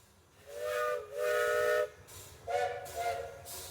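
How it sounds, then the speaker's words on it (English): Steam whistle of the Glenwood, South Park and Pacific No. 5, a 2-6-0 Mogul locomotive, blowing two clear, sustained chime blasts over a low background rumble, moderately distant. "the engineer blows the whistle and the journey begins."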